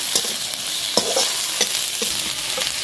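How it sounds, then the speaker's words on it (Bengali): Ginger paste sizzles in hot oil in a pan for egg tadka, a steady frying hiss broken by several sharp scraping strokes of a spoon stirring it, close and loud with no voices. "আদা বাটা ভালো করে কষিয়ে নেব"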